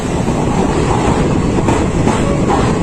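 A local passenger train between Cooch Behar and Siliguri rumbles steadily along the rails, a loud continuous roar heard from on board with no break.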